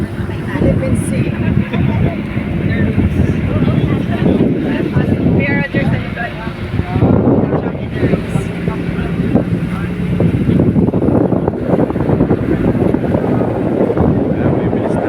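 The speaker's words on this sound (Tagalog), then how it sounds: "maandar na yung aming bangka" A motorized outrigger boat on the Philippine Sea runs steadily with a loud, constant engine drone mixed with heavy wind buffeting on the microphone and water rush. People talk over it.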